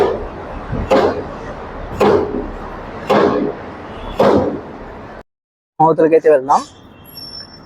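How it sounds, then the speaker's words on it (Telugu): A train passing at a railway underpass in Anantapur, heard as heavy rhythmic clunks about once a second over steady rumble, then a short silence and a person speaking briefly. "ఇప్పుడు ట్రైన్ అయితే వస్తుంది చూడండి"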